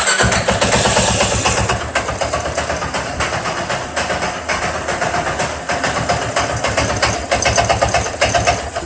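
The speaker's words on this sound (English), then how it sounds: "I'm going to try to start it and see if we can hear some knocking from the either variator or the clutch" A CF Moto 500 SSV engine cranks and starts, then runs at a loud, close, uneven idle with a rhythmic knocking clatter from the variator or clutch throughout.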